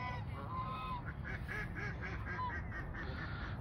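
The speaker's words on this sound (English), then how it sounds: "Or the geese or whatever, those white geese." White geese honk repeatedly at a park pond, a cluster of nasal calls rising over steady low outdoor rumble, fairly close and loud without any talk.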